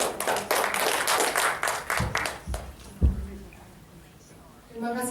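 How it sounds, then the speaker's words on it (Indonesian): An indoor audience at the DPR Kita app launch event in Indonesia claps for a few seconds, dense and fairly close, then the clapping fades out and a voice begins over the tail. "Silakan Ibu Diah Setiawati, mari kita berikan tepuk tangan."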